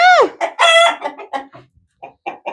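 Farm chickens and a rooster cluck and squawk close by in a quick burst of loud calls, then trail off into softer scattered clucks after a short pause.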